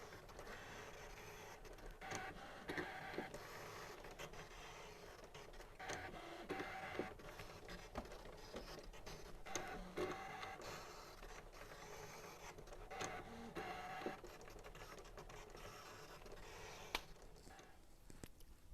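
A Brother ScanNCut electronic cutting machine works through a pattern with a continuous mechanical whir and ticking, steady and fairly faint, with small clicks of carriage movement and no speech.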